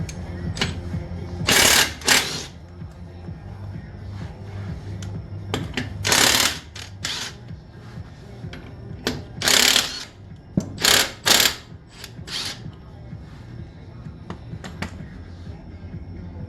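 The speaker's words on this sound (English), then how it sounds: "we're going to take off the 24mm carrier bearing bolts" A ratchet works the 24mm carrier bearing bolts on the rear end of a Chevrolet Silverado crew cab dually, an AAM 11.5 axle. Several short bursts of clicking come close up, with quieter mechanical handling between them.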